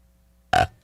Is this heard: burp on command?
yes